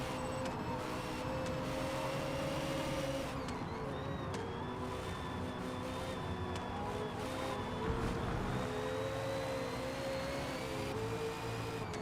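A Ferrari racing engine in Forza Motorsport drones steadily for about twelve seconds, its pitch slowly rising and dipping. The tone is sustained and loud with no talking, and the car sounds strained.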